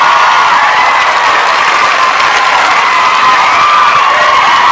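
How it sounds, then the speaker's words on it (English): Audience applause at a late-night call-in show, a dense steady roar of many hands clapping that fills the whole stretch at full loudness with faint cheering mixed in. "let's go ahead and give a round of applause"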